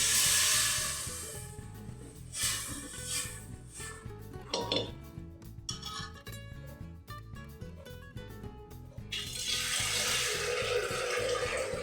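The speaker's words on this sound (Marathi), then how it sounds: "ते मटकी शिजवून घेतलेलं जे पाणी आहे ते आधी टाकते याच्यामध्ये." Boiled moth bean water is poured into misal masala with oil, a rushing splash of liquid among clinks of a metal pot and utensils, then a steady pouring hiss near the end.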